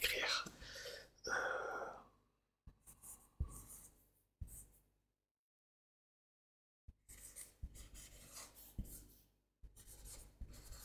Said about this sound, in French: attendez, je vais écrire.